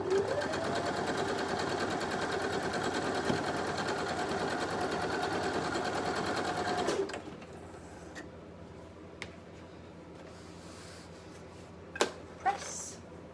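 A sewing machine runs steadily for about seven seconds, stitching purple fabric pieces right sides together for a woven ribbon star quilt block, then stops, leaving a quiet room with a few faint clicks and handling noises.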